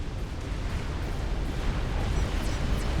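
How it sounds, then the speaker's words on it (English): A super nuke explosion in Supreme Commander, a real-time strategy game, hitting a naval fleet: a sustained, heavy, rumbling roar that holds steady and loud for the whole stretch, with no voices. "It's a super nuke versus Gulmo's navy."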